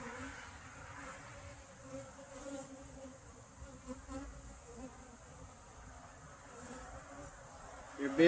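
Honey bees buzz steadily around an open hive during an inspection done without smoke, a dense continuous drone that stays close and even for the whole stretch with no talking.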